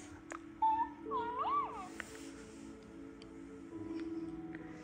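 A Cookeez Makery plush toy cat plays its nurture sounds after being squeezed, giving a cute electronic meow followed by a wavering chirpy cat call, then a soft rhythmic purring hum, close and fairly quiet.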